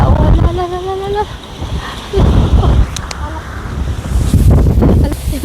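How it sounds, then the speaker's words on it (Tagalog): Strong wind buffets the microphone in heavy, continuous rumbling gusts while a person talks over it. "sobrang mahangin talaga dito ngayon"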